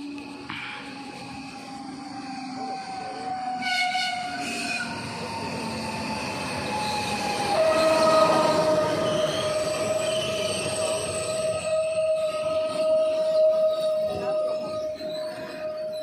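An ELF SKM commuter train rolls past at Legionowo with a steady rumble and a long, high metallic wheel squeal that rises and holds, loud and close.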